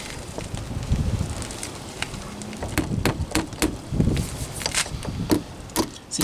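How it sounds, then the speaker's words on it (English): Gusty outdoor wind rumbles and buffets the microphone during a garage window sill repair, with scattered light clicks and taps of hand tools over it throughout. "the wind is kicking up"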